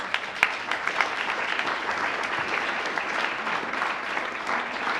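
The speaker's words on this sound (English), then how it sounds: "I think that deserves a round of applause." A church congregation applauds the association's newly elected president, a dense, steady round of clapping that holds evenly throughout, with a few sharper claps near the start.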